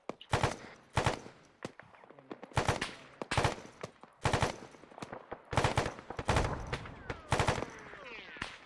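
Gunfire in the military video game Arma 3 crackles in repeated bursts of sharp shots, some clustered like automatic fire, spread irregularly throughout without talk.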